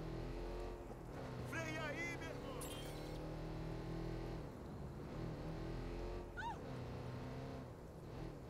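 An on-demand muscle car in the video game Watch Dogs 2 sends out a steady, throaty engine drone that rises and falls, with talking layered over it.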